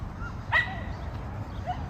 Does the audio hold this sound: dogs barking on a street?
yes